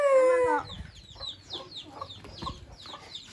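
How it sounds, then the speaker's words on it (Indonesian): Several chickens cluck in short, choppy bursts nearby after a brief crow-like call at the start, with light background rustling. "Itu ada ayam."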